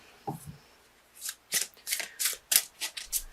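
A Crystal Wisdom Healing Oracle deck is shuffled close up, with a quick series of crisp riffling card bursts in a quiet room and no voice.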